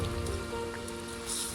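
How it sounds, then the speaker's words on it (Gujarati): Steady rain falls during rice paddy planting, a continuous dense patter of drops on surfaces heard alone with no voices, holding even throughout and brightening slightly near the end. "વરસાદ આવી ગયેલો છે જેની રાહ જોતા હતા પણ થોડોક જ આવ્યો"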